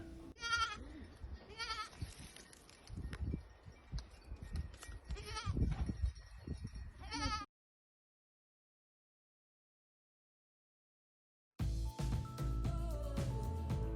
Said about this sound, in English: Oh my, those goats are so cute.